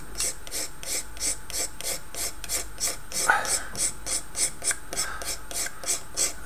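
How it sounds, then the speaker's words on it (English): A hobby knife scrapes a stick of chalk pastel into dust for model tank weathering, making close, soft rasping strokes in a quick, even rhythm of about three per second that carry on without a break. "What we do for this is we get our hobby knife"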